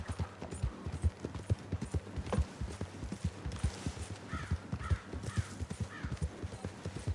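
Horse hooves clip-clop at a steady walking rhythm in the video game Red Dead Redemption 2, close and clear, with faint bird calls in the background.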